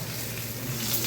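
Two bay leaves sizzle in hot mustard oil in a pan for a Bengali fish-head curry, a brief, steady low hiss heard up close with no talk.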